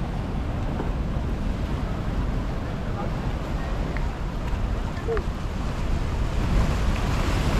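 Ocean waves break at Batu Picah beach in North Biak, a steady rushing surf close by, heavy with wind noise on the microphone and no clear speech.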